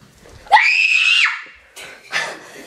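A woman lets out one loud, shrill scream that rises and holds for under a second, followed by brief breathy sobbing sounds, close and otherwise quiet.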